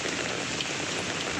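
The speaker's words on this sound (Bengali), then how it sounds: "আমাদের এখানে খুব বৃষ্টি হচ্ছে" Heavy rain pours in a hot, humid Bengal summer, a dense, continuous hiss of drops hitting surfaces close by, steady and loud through the whole short stretch.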